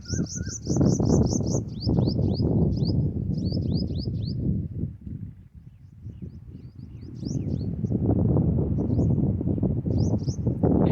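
A small bird, likely a sparrow, chirps in quick bright bursts near a water tap on a summer day in rural Punjab, repeated calls over steady low rumbling background noise.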